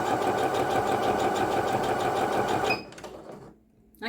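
Singer HD6805 sewing machine stitching at a steady, loud, close mechanical rattle for nearly three seconds before slowing and stopping into near silence.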